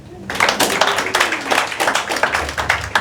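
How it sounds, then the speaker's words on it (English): Clapping from the audience at a mental health and addiction recovery event, starting abruptly and continuing as a fairly loud, close patter of hands, with a voice briefly audible underneath. "Give yourself a clap for being at this event."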